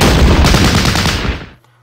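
Gunfire from the strategy video game Battle Academy: a loud, dense burst of rapid shots that rolls on for over a second, then cuts off abruptly into near silence.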